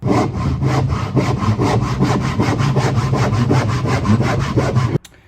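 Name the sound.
hand-sawing poplar wood into a rectangle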